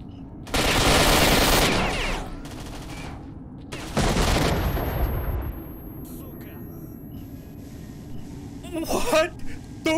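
Bursts of automatic gunfire in S.T.A.L.K.E.R.: Shadow of Chernobyl, first a long loud volley, then a second shorter burst, followed by quieter ambience and a brief noisy clatter near the end.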